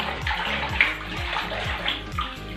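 Water splashing and sloshing while a monkey is bathed, steady close watery noise with several soft splashes and no speech.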